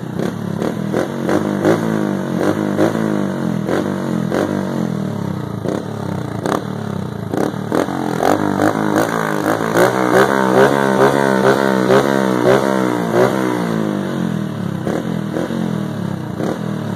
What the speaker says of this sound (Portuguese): Vamos ligar aqui a motoca.